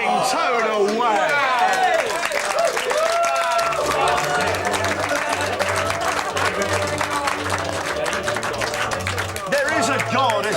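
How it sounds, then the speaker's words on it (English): A TV studio audience cheers and claps on a breakfast show, a loud burst of whoops and applause with overlapping voices talking and laughing close by. "This is, I think, a cheer."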